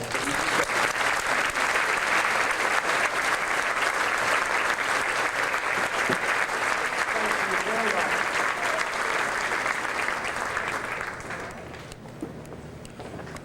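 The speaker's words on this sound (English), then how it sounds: "Could we please have a round of applause?" Sustained audience applause for a scholarship recipient at a Northview awards program, dense and steady for about ten seconds before thinning out near the end.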